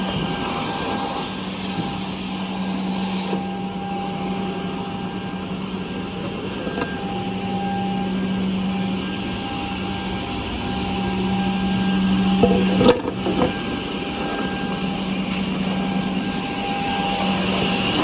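A Tough Cut Rutile 350 edgebander runs steadily as a panel feeds through, a constant loud mechanical drone with a low hum and faint whine, briefly rising with a few clunks near the middle, with no voices.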